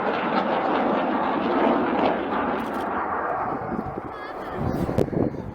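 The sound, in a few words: aircraft flying aerobatic display at RAF Cosford airshow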